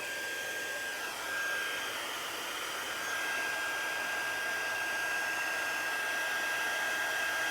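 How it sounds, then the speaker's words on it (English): A heat gun softens glue on a notecard with a steady, close, breathy whir and a faint high whine, blowing unchanged from start to finish with no voices. "So, now heat this up. We're just getting the glue sticky."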